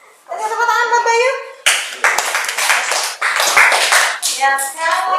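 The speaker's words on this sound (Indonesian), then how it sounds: "Tadi tepuk tangan buat Bayu." A primary school class clapping for a student named Bayu, with several bursts of quick, close hand claps mixed with children's voices and an adult voice speaking before and between them.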